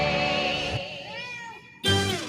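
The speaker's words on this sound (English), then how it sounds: "I got a cat that says meow" A cat meows in a music video, with several drawn-out tonal meows one after another and a loud final meow, heard alone with no talking.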